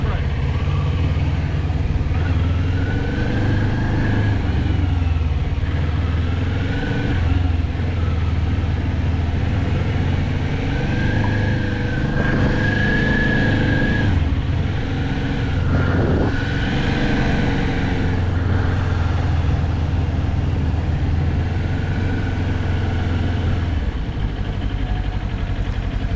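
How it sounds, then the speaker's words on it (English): Motorbike engines run steadily during a practice session, a continuous loud droning rumble with some rising revs, lasting the whole stretch while a voice speaks over it. "Switch the bikes off for a sec."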